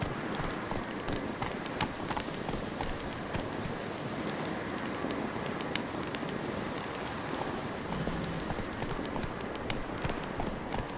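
Roach the horse galloping in The Witcher 3, a steady stream of hoof clip-clop running the whole time over a dense, rain-like wash of ambient game sound.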